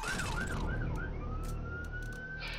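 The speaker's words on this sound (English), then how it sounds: "the lovely sirens, which are very annoying" Wailing police-style sirens sound throughout in the background, rising and falling steadily under a constant low traffic rumble, with no talk.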